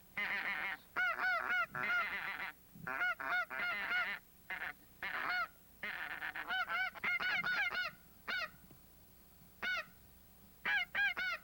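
Geese honk in repeated noisy bursts during a goose hunt, several birds calling over one another at moderate distance, with short quiet gaps between flurries.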